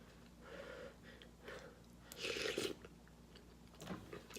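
Close, faint mouth sounds of chewing a spoonful of vegan soup with juicy bell peppers, rice and broth: soft wet crunches and bites with a louder burst midway, with light breathing between.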